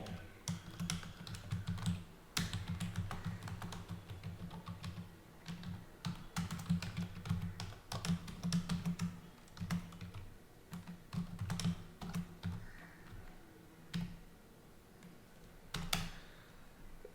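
Steady typing on a computer keyboard, a brisk irregular run of close, crisp key clicks with short pauses, continuing for many seconds over a low background hum.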